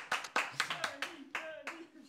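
A small group claps briefly at a live-streamed board game show, a handful of hands giving sparse, uneven applause in a few short bursts.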